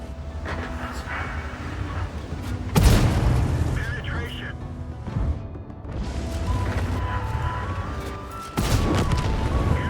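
Heavy booming blasts from tank high-explosive shells striking a building in a tank combat video game, with crashing debris and rumbling between impacts and a steady game noise bed underneath.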